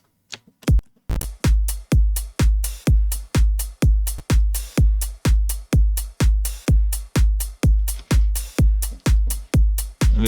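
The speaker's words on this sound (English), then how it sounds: "together with the kick drum it sounds like this" An electronic drum beat with kick drum and ride cymbal thumps along in a steady, evenly spaced pattern of about two punchy hits per second. Each hit is loud and close, with a bright cymbal wash on top and no voices.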